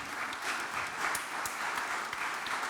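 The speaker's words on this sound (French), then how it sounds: "Je pense que vous pouvez les applaudir" An audience applauds steadily at a talk on home renovation. The clapping is moderately loud and sustained throughout, with no one speaking over it.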